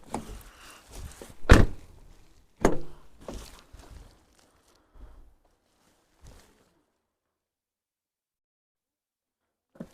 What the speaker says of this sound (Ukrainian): Ну, двері зачиняються тихіше, але треба їх самому закривати.